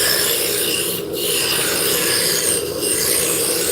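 A roughing gouge cuts a wooden drop spindle turning on a lathe, giving a continuous loud scraping rasp. Two short dips mark the passes along the spindle.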